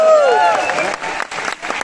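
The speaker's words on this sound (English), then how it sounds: "Let's give him a big round of applause." An audience claps briefly, with a little cheering, as a volunteer comes up on stage at a live event, mixed with loud tonal sound and voices, the clapping thinning out after about a second.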